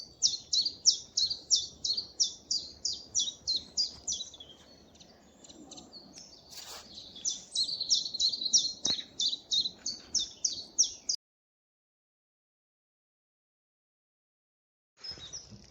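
Chiffchaff and other woodland birds singing, a repeated rhythmic two-note chiff-chaff phrase for about eleven seconds, then silence, then a brief return of song at the end, moderately distant.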